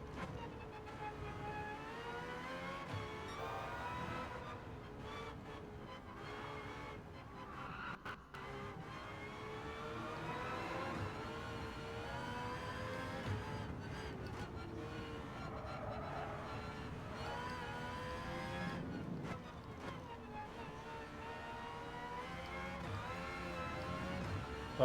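Aston Martin Valkyrie race car engine in Gran Turismo 7, a steady high-pitched wail held at sustained revs through the whole lap section, with brief dips around gear changes and no talking.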